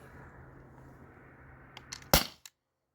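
An HPA-powered T4E P2P HDP50 Gen 2 pistol loaded with heavy steel ball bearings fires one sharp, loud crack, preceded by a few faint clicks over a soft background hiss and followed by a brief smaller snap.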